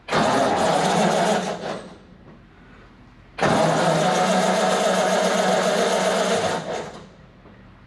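A 1935 Ford truck engine cranks and runs in two loud bursts of close, rattling running separated by a short quiet gap, each dropping away sharply at the end.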